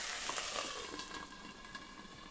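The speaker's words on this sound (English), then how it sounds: "Nothing like some sauteed onions." Onions sauté on a new COOKTAO electric cooktop in a tiny home camper, giving off a soft, steady sizzle with faint stirring scrapes, fairly quiet and close with no talking.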